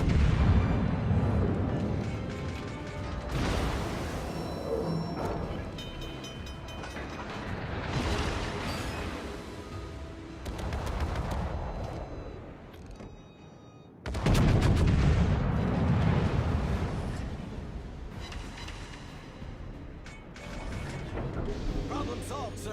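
Warship cannons in the naval battle video game World of Warships fire in heavy booming salvos with rumbling mechanical background, including a sudden loud blast midway, while a player talks over the action.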